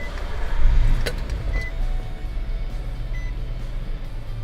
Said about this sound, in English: So now we're going to hop inside and start the vehicle up.